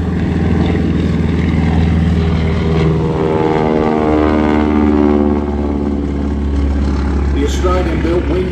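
A Harvard propeller aircraft passes by at an airshow at the Temora Aviation Museum, its loud, steady engine drone rising and then easing slightly as it goes past.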